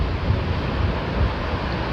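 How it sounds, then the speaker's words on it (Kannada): Ocean waves wash onto a beach, heard as a steady low rumble of surf with soft swells and wind noise across the microphone, fairly close and continuous, with no talking. "ಆ ಅಲೆಗಳ ಸೌಂಡು"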